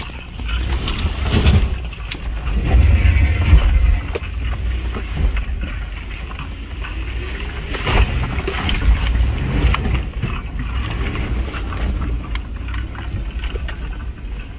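A Lexus GX470 engine strains and revs while crawling off-road over rocky obstacles, a loud rumbling drone with surges, wind buffeting and scrapes over the top.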